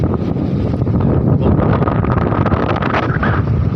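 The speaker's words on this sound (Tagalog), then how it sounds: "Lakas ng hangin" Strong wind roars and buffets the microphone continuously, a dense rumbling gust with no break.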